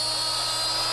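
A hand router cuts a mortise in wood with a steady, high, loud whine, continuous and close throughout.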